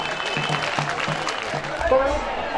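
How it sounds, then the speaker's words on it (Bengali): An audience claps at a school and college award ceremony where crests are presented, a broad patter of applause with a voice speaking over it. "আমরা করতালি দেব একটু জোরে।"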